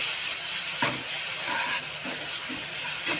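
Masala paste frying in a little oil in a pan: a steady bright sizzle with occasional sharp crackles and stirring scrapes, up close, no one speaking.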